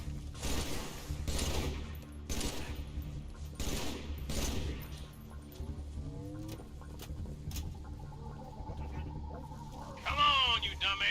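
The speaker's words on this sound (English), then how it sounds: "Who's shooting me?" Repeated bursts of gunfire in the Halo 3 video game, loud heavy volleys in the first half, then scattered shots and chirpy game effects, with voices talking over the mix.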